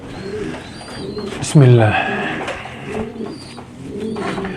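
Pigeons coo in low, rolling calls close by, one louder coo standing out briefly while someone talks over them.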